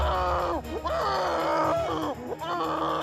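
Anguished screaming and pained crying from a horror-style audio drama, a continuous run of wailing, groaning cries that rise and fall over several seconds, loud and close.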